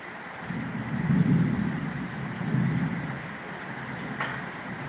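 Heavy rain driven by strong wind roars as a steady broadband wash, with deep low rumbling gusts swelling twice and a faint brief knock near the end; no voices.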